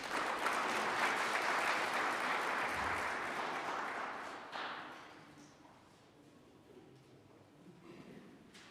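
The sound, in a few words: audience applause after the presentation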